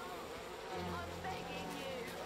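Buzzing of bees in a spot where bees are present, a soft continuous hum lasting a couple of seconds, faint and low in level with no clear talk over it.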